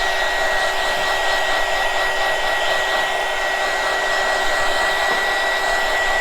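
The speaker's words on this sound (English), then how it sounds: "I'm going to quickly dry it with my lovely hot air gun." A hot air gun drying paint on a cotton candy craft, blowing as a steady loud even roar with a constant whine and no pauses, no talking.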